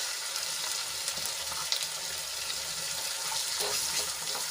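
Onion sizzles and sautés in ginger, garlic and chilli paste in a hot pan, a steady bright frying hiss with occasional soft stirring clicks, fairly quiet and close.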